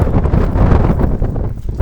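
Steady, heavy wind buffeting a microphone, a low rumbling roar with gusty fluctuations throughout and no clear speech.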